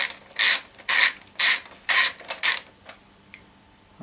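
A wrench ratchets on a nut while a motorcycle engine is being removed, five loud rasping clicking bursts in a steady rhythm, then a few faint ticks.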